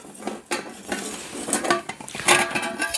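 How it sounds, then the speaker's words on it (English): Small Kelly Kettle camping pan and lid clinking together, several quick metallic clanks and rattles close by in an irregular rhythm. "You get a little pan and a little lid for it"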